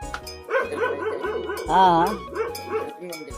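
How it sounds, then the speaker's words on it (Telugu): Village dogs barking and whining at a visiting man, a close series of harmonic yelps and barks with a drawn-out howl-like cry in the middle. "కుక్కలు చూసి మరుగుతున్నాయి"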